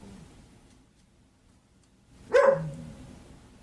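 A dog gives a single short bark after a near-silent stretch with faint room hum. It sounds moderately close and is not overlapped by talking.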